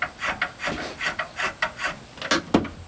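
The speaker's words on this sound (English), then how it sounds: "So I just changed to the flat shave," A flat shave plane strokes along a wooden chair stretcher in steady rhythmic rasping passes, about eight close scrapes in quick succession, with a sharper knock at the end.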